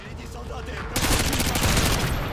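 Sudden burst of rapid gunfire in the Call of Duty Modern Warfare 2 video game, loud and close, erupting after a quieter stretch of game ambience.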